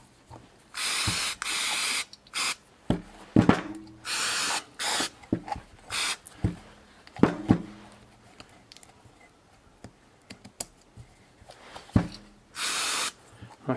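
Brake cleaner sprays onto a bicycle hub in short bursts of sharp hissing, repeated irregularly several times with quiet gaps, clicks and handling noises between, close up.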